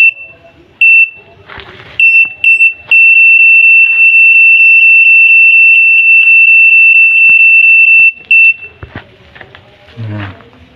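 Parking sensor warning beeper fitted in a Suzuki APV gives a loud, shrill electronic tone, first in a few short bursts, then a long run of rapid even beeps lasting about six seconds, with handling noises and brief rustling around it.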